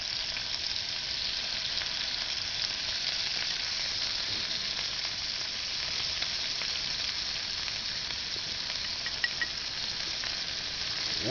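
Wild hog pork sizzles steadily in a pan with hash browns, a constant bright crackling hiss that stays even and close throughout with no talking.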